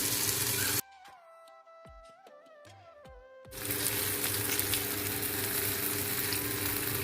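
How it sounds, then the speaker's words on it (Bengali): Pomfret fish pan frying on a low flame, a steady soft sizzle heard in two stretches, broken by a quieter gap with faint clinks and a tonal hum before the sizzling returns. "এটা লো ফ্লেমে করতে হবে যাতে মাছটা ভেতর পর্যন্ত ভালোভাবে ভাজা ভাজা হয়ে যায়"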